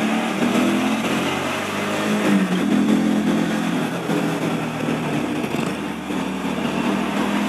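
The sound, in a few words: cars and trucks passing on highway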